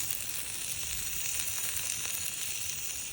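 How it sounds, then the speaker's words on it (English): A pre-cooked ribeye steak warms in a pan over an open fire, giving a continuous, even sizzling hiss at moderate level, close and unbroken for the whole stretch, with no talking. "This is just to warm up the pre-cooked ribeye steak."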